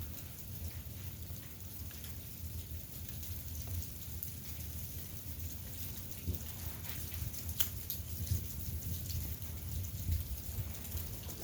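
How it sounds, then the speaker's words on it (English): Steady rain falling outdoors, mixed with snow, a constant close wash of patter with scattered louder drops and no voices. "It's raining and snowing at the same goddamn time."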